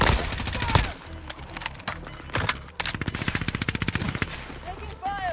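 Video game gunfire: rapid automatic bursts and single shots rattle through the scene, one long fast string of rounds near the middle, with a voice speaking briefly in between.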